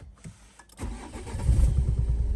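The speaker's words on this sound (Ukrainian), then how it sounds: "Так автомобіль заводиться." A 2012 Renault Koleos engine cranks briefly and catches, then settles into a close, steady idle rumble that grows louder after the start.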